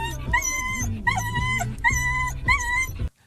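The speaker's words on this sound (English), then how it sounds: "That dog said shut the fuck up." A dog whimpers and yips in four high, strained bursts, close and fairly loud, with a low growly undertone, then stops abruptly.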